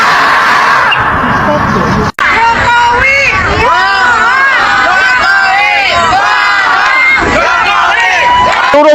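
A large crowd at an Indonesian political rally shouts and cheers loudly and continuously, many voices yelling together in dense, overlapping bursts with no break.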